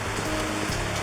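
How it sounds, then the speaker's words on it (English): Rain pours steadily in the Amazon jungle, a dense, close hiss of drops pattering on leaves and ground with no break and no voices. "even though it's raining"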